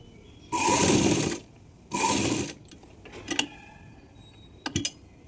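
Sewing machine stitching a baby frock, heard alone and close: two steady whirring runs of about a second each, followed by a few short mechanical clicks and taps.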